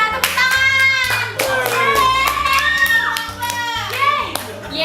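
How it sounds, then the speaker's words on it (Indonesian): Hand clapping on an Indonesian TV talk show, a quick rhythmic burst of claps mixed with cheerful voices and music underneath, loud and close. "Naura dari pihak Jessica, tepuk tangan"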